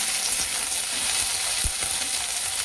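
Something frying in hot oil over a full flame, a steady dense sizzle with a few soft low knocks, close and continuous with no voices.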